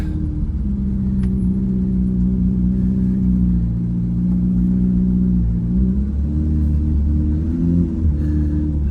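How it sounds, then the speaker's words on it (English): A Chevrolet Corvette C8 Z06 at a dragway, its engine holding a steady loud droning rumble near by, pitch wavering slightly and rising toward the end as if building for a burnout. "Now we are going to go try a little quick hit. Burnout."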